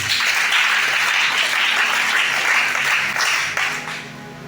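A church congregation at a Sunday service applauds loudly and continuously, dense clapping from a large crowd that fades slightly toward the end.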